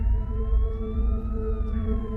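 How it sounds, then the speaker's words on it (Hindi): A wailing siren rises and falls slowly over a loud low rumble, sounding steady and fairly close with no voices. "ये सायरन की आवाज है।"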